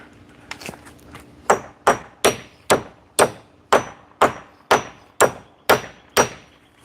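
A hammer strikes repeatedly during a fence-building job. About a dozen sharp, evenly spaced blows land close by at a steady rhythm, after a few lighter taps at the start.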